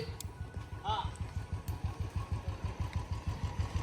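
A motorcycle engine idles close by with a steady, rapid chugging pulse, while a voice briefly speaks over it.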